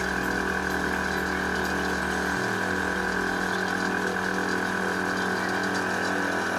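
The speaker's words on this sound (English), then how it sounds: "it's going to take a while for the tank to fill because it was completely empty" An Accuair air ride compressor fills a completely empty air tank, giving a steady, continuous mechanical drone with a constant whine that holds throughout, near and fairly loud, with no talking.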